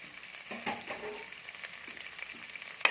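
Fresh mint and coriander leaves frying in a pan for bagara rice, a soft steady sizzle with a few brief scraping stirs, close and alone without talk.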